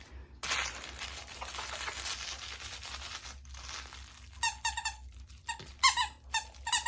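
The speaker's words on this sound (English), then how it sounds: "Oh, Monday you weren't so sure about the squeaky." A puppy plays with a squeaky toy: crinkling and rustling first, then a quick series of sharp, close squeaks in uneven bursts near the end.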